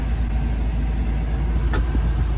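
A Suzuki Carry van engine idles with a steady low rumble and a faint, even hum, nearby and continuous with no talking.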